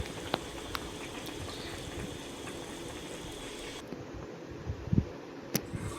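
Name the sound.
vegetable curry with carrot and beetroot boiling in pot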